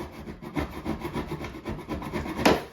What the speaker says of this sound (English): It may seem counterintuitive to take a chisel to a flat surface that you're going to see